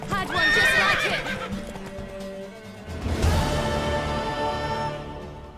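In The Witcher 3 game, a horse whinnies loudly, then hooves clop and a second neigh rises over the clatter, with a brief voice beneath.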